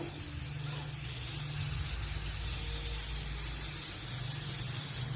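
A pressure cooker on the stove vents steam while pulao rice cooks: a loud, steady hiss that holds unbroken for about five seconds, with a faint low rumble beneath it.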